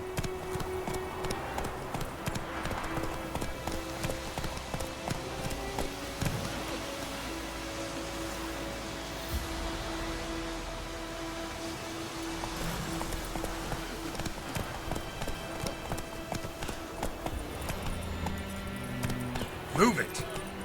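In The Witcher 3, the horse Roach gallops with a rapid, even drumming of hooves that runs throughout, alongside game music and ambience, with people talking over it.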